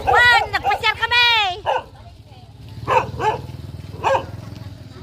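A dog barks and yips in short bursts close by outdoors on a morning walk, with several sharp barks separated by brief gaps, while people talk nearby.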